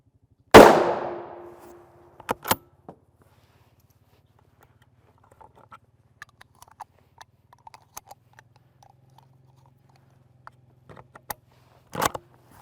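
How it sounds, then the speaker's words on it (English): A loud gunshot strikes a steel body armor plate with a sharp crack and a ringing metallic tone, followed by a few clanks, scattered light ticks and another bright metallic bang near the end. "Shot number 3 will be in the middle of the plate."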